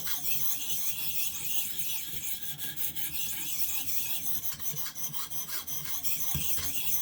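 A knife blade is sharpened on a ViperSharp sharpener, with steady close-up rasping and rubbing strokes that run continuously and evenly throughout.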